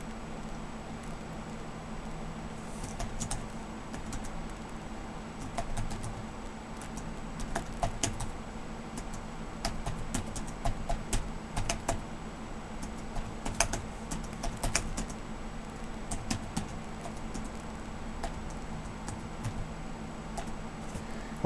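Rapid key presses clatter on a worn Toshiba laptop keyboard with missing letters, a continuous stream of light ticking clicks in uneven bursts, close and moderately quiet, with no voices.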